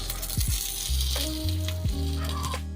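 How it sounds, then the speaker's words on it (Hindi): Flour-free cabbage momos fry steadily in a pan, giving a continuous close sizzle with a few soft bumps as they are turned. No one speaks. "इसी तरीके से हम इन्हें लौटते पौटते सेक देंगे, फ्राई हो जाएंगे।"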